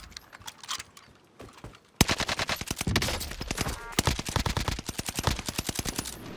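Rapid automatic gunfire with tracer rounds in Warzone, starting abruptly after a quiet stretch and continuing as a dense, close, sustained burst of sharp shots.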